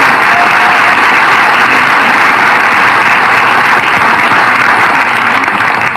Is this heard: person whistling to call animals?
no